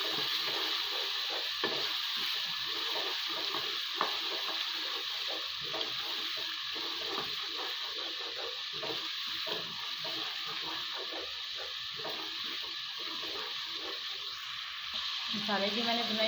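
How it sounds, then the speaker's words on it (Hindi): Masala spices sizzle steadily in a pan for brain masala while a spoon scrapes and stirs at intervals, close and continuous under a constant frying hiss. "तकरीबन 5 मिनट अच्छे से मसाले की बुनाई करूंगी।"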